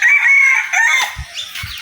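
Rooster crowing in a Bangladeshi village during a morning market, one long loud nearby crow followed by a few softer clucks and short calls.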